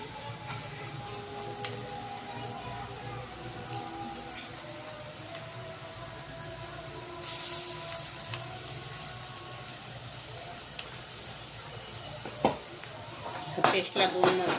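A paste of garlic and green chilies sizzles and fries with onion in a pan for egg chutney, a steady low crackle running throughout, with a brighter burst of sizzle midway and a few stirring clinks near the end.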